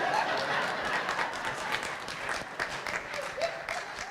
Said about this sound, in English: Maybe that could get me some applause or something.